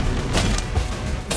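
Bombastic Bomb spell explosion in Harry Potter: Magic Awakened, a loud booming blast with low rumble throughout and sharp bursts of impact near the start and end, heard close.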